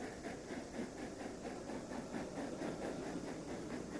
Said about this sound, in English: Today's high-speed trains pass over the same viaduct.